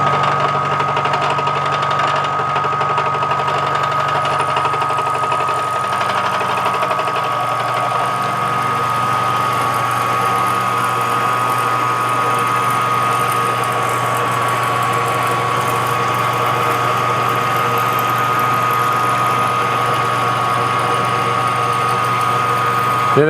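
A milling cutter machines a five-cylinder radial engine crankshaft, a loud continuous mechanical whine with a steady high tone over a low motor hum, unbroken and close throughout.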